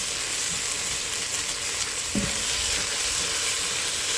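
Seasoned ranch burger meat browns in a pan, a continuous low sizzle with a single sharp scrape of a spatula partway through and no voices.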